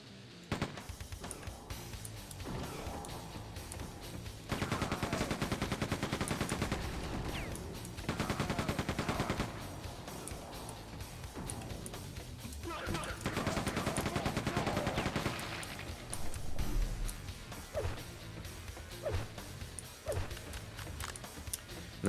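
Rapid automatic gunfire from the machine gun in the video game Quake 2, coming in dense sustained bursts that pause and resume, loud and close with game effects in the gaps.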